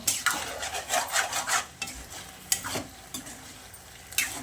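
Mushroom pepper fry being stirred in a pan with cornflour, giving repeated scraping strokes of a spoon against the metal over a soft sizzle, close and without talk.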